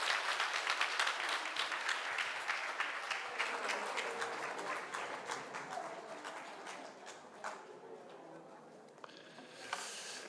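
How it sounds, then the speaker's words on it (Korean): A church congregation in Namyangju applauds during a Sunday worship service, a loud burst of clapping that slowly fades and thins out over about ten seconds, with faint voices underneath. "큰 박수 하겠습니다"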